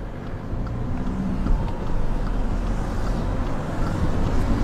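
A car driving south on Bayview Avenue in city traffic gives a steady low road and engine rumble with wind noise. The sound is continuous and close, with no voices.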